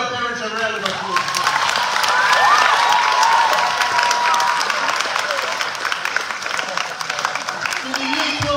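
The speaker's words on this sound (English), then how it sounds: "Let's give all of our parents a round of applause." A school hall full of families at a Year 12 graduation claps loudly with cheers and whoops rising over the applause, while voices carry through the crowd and a speaker's voice returns near the end.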